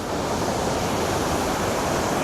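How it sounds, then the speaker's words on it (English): A waterfall in Swaledale cascading into a pool below, a dense, steady broadband rush that fills the whole moment at constant loudness, close by and with no voices. "that just leaves the fall cascading into the water"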